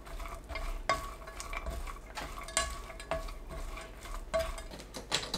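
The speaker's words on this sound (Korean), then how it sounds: "불 켜지 않은 팬에 감자, 들기름 2큰술 넣고 섞어주세요." Potatoes and perilla oil being tossed together in an unheated pan, with repeated scraping and clacking of a utensil against the pan in an irregular rhythm, fairly close and moderately loud, no voices.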